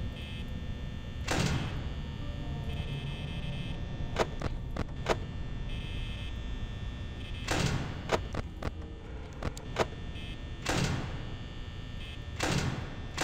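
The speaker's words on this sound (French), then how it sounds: "Pourquoi je ferme cette porte?" Door in the horror game Five Nights at Freddy's shutting with several heavy thuds and clunks at intervals over a steady low background hum, fairly close.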